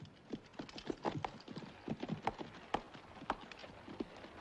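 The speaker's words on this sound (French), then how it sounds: "Vous mènerez les chevaux au pâturage" Horses walking in a Western cavalry scene, hooves clip-clopping in a steady, overlapping rhythm of many close, distinct strikes with no talk over them.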